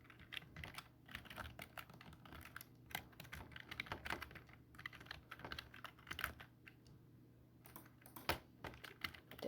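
Login credentials typed on a computer keyboard, rapid irregular clicking keystrokes close up, quiet and steady with brief pauses, no talk.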